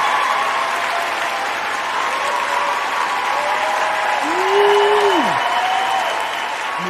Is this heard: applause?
yes